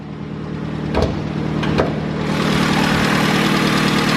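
A cheap used car's engine idles steadily with a low, continuous rumble and faint mechanical ticking, with a couple of brief clanks early on; it is leaking oil onto the header.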